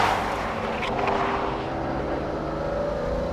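A sports car engine revs hard through the gears, a loud, close, rising and falling roar with strong droning harmonics that runs without pause.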